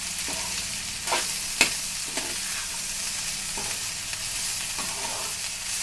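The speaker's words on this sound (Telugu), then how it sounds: "ఇదిగోండి మాడుకోకుండా అలాగా జాయిగా కలుపుకుంటూ ఉండాలి." Okra (bendakaya) being stirred in an uncovered frying pan, a steady close sizzle broken by several sharp scraping strokes of the spatula against the pan.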